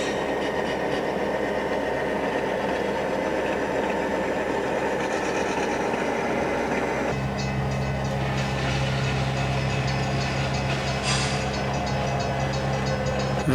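A model train rumbles and clatters along the track through a rail yard on a model railroad, a steady mechanical drone shifting to a deeper hum partway through.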